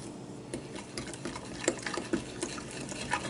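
Shoofly pie filling being mixed with a fork in a bowl, producing quiet, quick repeated scraping and tapping clicks in an uneven rhythm, close by and faint.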